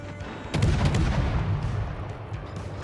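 Naval gunfire from a warship in World of Warships, a heavy booming salvo that erupts after a brief lull and rolls away into a rumbling decay, fairly loud and close.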